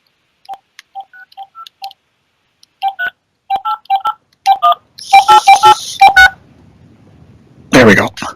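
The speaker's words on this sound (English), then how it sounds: "Making a phone call." Touch-tone telephone keypad dialing while a phone call is placed: a run of short, clear beeps in irregular groups, then a denser stretch of line tones. A brief loud burst follows at the end.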